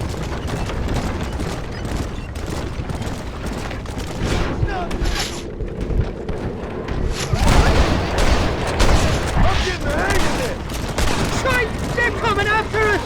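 Sustained gunfire in a wagon-chase shootout in the video game Red Dead Redemption, with dense volleys of shots and booms crowding the whole stretch, growing heavier midway and continuing loud over the action.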